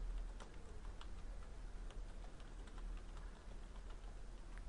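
Quiet keystrokes on a computer keyboard while mail server details are entered during software setup, a steady scattering of soft, close ticks with no talking.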